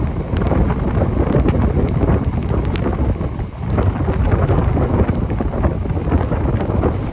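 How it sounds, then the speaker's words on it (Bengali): Heavy rain pours at Bandel railway station, a loud, constant roar of downpour with gusty rumbling buffeting close to the microphone. "আর বিশাল বৃষ্টি হচ্ছে এদিকে দেখতে পাচ্ছ বিশাল"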